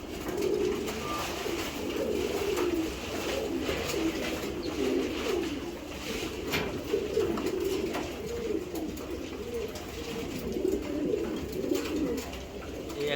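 Racing pigeons, including a blue hen, coo continuously in overlapping, rolling calls close by, a steady layered murmur of birds with no talking.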